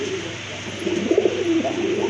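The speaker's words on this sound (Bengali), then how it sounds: "এক জোড়া বিগ সাইজের কোয়ালিটি সম্পন্ন ইন্ডিয়ান বোম্বাই কবুতর" A large pair of Indian Bombay pigeons coo softly and close by, a low burbling murmur that swells and rolls in short phrases over a steady background hum, with no talking.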